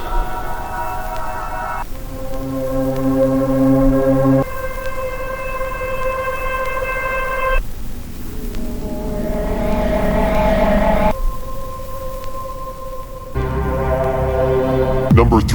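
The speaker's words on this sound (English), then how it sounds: "ghosthack's free cinematic horror sounds." Free cinematic horror sound effects run in succession: droning, siren-like sustained tones shifting between sections, a swelling noisy rumble midway, and low ominous hums, loud and continuous throughout.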